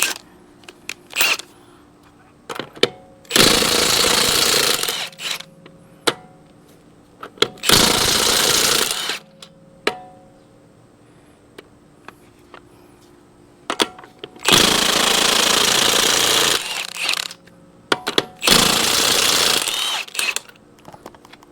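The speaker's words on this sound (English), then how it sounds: "you're going to need a 19mm to get all of these lug nuts off." Impact wrench zipping 19mm lug nuts off a 2010 Chevy Malibu wheel in four loud bursts of one to two seconds each, with quiet clicks and handling noise between them and no talk.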